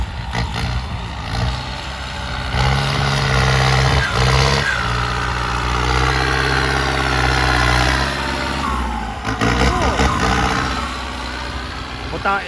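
A Kubota M6240 farm tractor with a hydraulic shuttle runs at a steady idle and then drives off, its engine note rising and falling close by. The rumble continues throughout, with speech heard over it.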